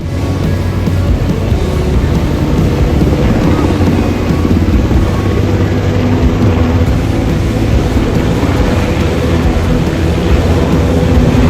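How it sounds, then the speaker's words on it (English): A military helicopter hovers low over water, its rotor wash throwing up spray, giving a loud, steady, dense roar that holds for the whole stretch with no pause. "This military helicopter came super close to the water, kicking up splashes before dropping personnel in and flying off"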